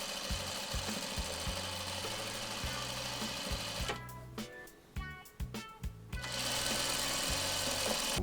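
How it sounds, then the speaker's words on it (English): Sewing machine stitching a final piece onto a Seminole-style quilt block, a steady close motor whir with rapid needle chatter, pausing briefly midway for a few short bursts before running continuously again. "so let's get that one sewn on."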